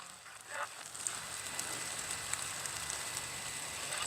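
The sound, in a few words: heavy rain pouring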